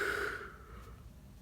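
A single human yawn, opening with a brief voiced tone that slides down into a soft, breathy exhale, close and fairly quiet.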